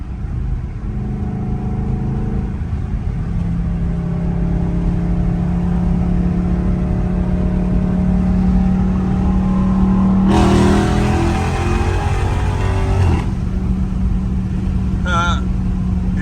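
Dodge Charger Scat Pack V8 revs hard and accelerates in a long, loud rising pull, deep rumble building and then cutting off abruptly, with people talking inside the car.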